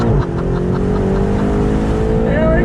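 A 2020 BMW M8 in manual shift mode pulling hard in first gear, its engine and exhaust roaring loud and close with pitch climbing steadily throughout.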